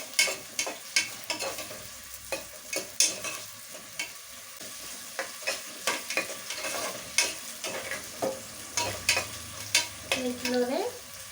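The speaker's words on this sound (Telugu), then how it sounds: "మంచి గోల్డెన్ కలర్ వచ్చేంత వరకు అయితే వేయించాలి" Onions frying in a pan until golden, loud sizzling crackle under repeated stirring strokes that scrape the pan in an uneven rhythm, close and continuous with no talking.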